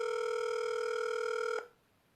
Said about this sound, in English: she picks up the phone and dials